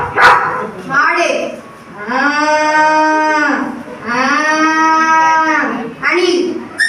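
A human voice mimics a cow, giving two long, drawn-out moos with a wavering, nasal tone, loud and close, framed by short breathy sounds before and after.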